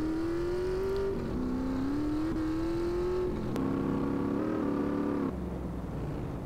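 Car driving in GTA San Andreas, engine droning steadily and climbing through gears with a few shifts and a brief clunk, moderately loud and continuous with no talk.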